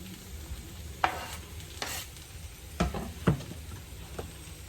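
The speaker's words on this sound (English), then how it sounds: "Now we're going to add our mushrooms." Mushrooms fry with garlic in a pan, a faint steady sizzle broken by several sharp scrapes and clinks of stirring, no voices.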